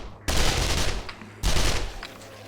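SMG fire in the video game 7 Days to Die, two loud sustained automatic bursts close up, separated by a short pause.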